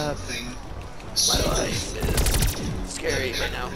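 Rapid automatic gunfire bursts from Call of Duty Black Ops Cold War zombies mode, loud and close, firing in several rattling volleys with brief gaps, while players talk over the shooting.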